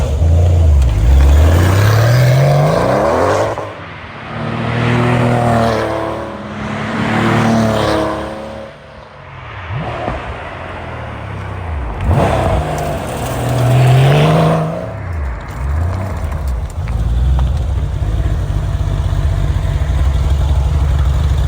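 A 1995 Porsche 993 RS roars loudly nearby, its engine climbing hard through several rising pulls with brief dips between gear changes, then settling into a steadier drone as it carries on past.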